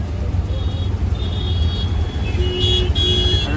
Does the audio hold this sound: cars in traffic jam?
yes